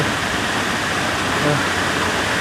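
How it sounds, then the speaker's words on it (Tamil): Water rushes through Sinharaja forest in Sri Lanka in a steady, loud, unbroken roar that fills the whole stretch like a nearby stream or cascade. "தண்ணி கேட்குது"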